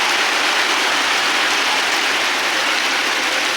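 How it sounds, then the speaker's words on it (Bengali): Heavy rain falls outside a window as a dense, continuous hiss, loud and unbroken, with no voices. "বৃষ্টি হচ্ছে"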